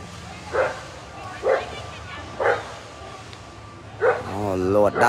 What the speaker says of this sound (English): Lord, that dog not friendly.